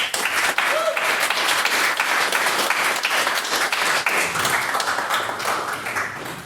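Debate audience applauds again for a maiden speech, full and even clapping that carries for several seconds before slowly tapering off at the end.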